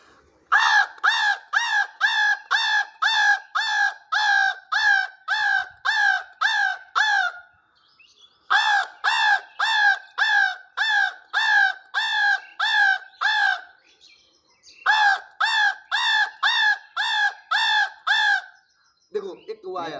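A man imitates crow caws with his own voice, calling out in an outdoor setting: long runs of rapid, evenly spaced harsh caws, loud and close, broken by two short pauses.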